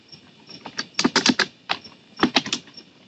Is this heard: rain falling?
no